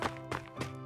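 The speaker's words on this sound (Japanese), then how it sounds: "この足音は" Three footsteps thud in an even rhythm, each a short, fairly close impact spaced about a third of a second apart.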